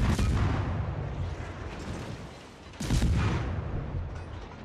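Heavy naval guns on a warship in World of Warships roar in booming blasts, one big report at the start and another near the end, each leaving a long rumbling tail.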